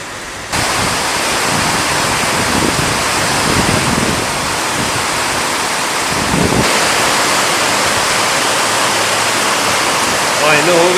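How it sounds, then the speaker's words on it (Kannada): Heavy rain pours in a loud, continuous broadband rush with gusty wind buffeting the microphone, steady throughout and close around the listener. "ಫುಲ್ ಜೋರು ಮಳೆ ಬರ್ತುಂಟು."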